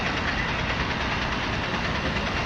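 A motorcycle engine idles steadily at close range, a continuous low rumble with no breaks and no talking.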